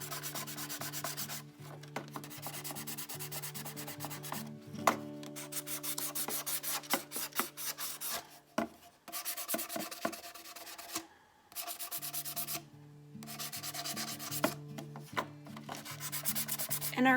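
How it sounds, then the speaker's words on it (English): A sanding block rubs over a chalk-painted basket in repeated scratchy back-and-forth strokes, close and steady with brief pauses, while soft background music plays underneath. "I'm going to take the sanding block on my basket"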